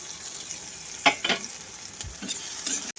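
Thickly cut onion, chopped tomato and green chilli fry in a pan, a soft steady sizzle broken by a few sharp scraping stirs and a clack near the end.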